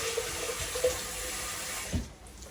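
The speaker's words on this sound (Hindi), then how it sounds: "प्रेशर कुकर में थोड़ा सा पानी डालूंगी" Water pours steadily into a metal pressure cooker, then stops with a brief clunk near the end.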